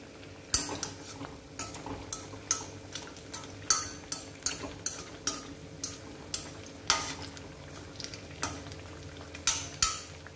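Bajji and pakoda made with gram flour batter fry in oil under a soft steady bubbling, punctuated by regular sharp clinks of a utensil against the pan, close and moderately quiet.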